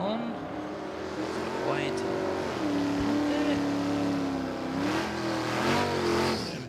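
Drag racing at Willowbank Raceway: an old-school Mustang and a Dodge roar down the strip with a loud, sustained engine drone that rises and shifts through the run, while a commentator talks over it.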